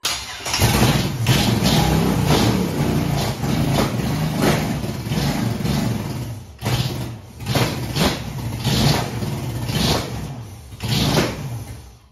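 Junkyard LS V8 engine, removed from its truck and running on a stand outdoors before headers were fitted, with vacuum leaks; loud, close, rough revving that rises and falls in repeated bursts.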